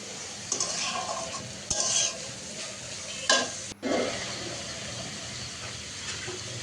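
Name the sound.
stirring and frying egg noodles in a pan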